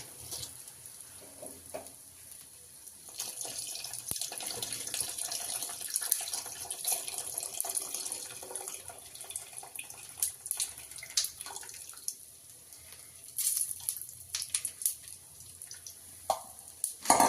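A soft, quiet trickle of tamarind water being poured into a pot of vegetable sambar, with light splashes and clinks scattered through the pour.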